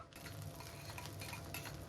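Tempering spices crackle and fry in a generous amount of hot oil in a kadai. The sound is a soft, steady sizzle with light stirring.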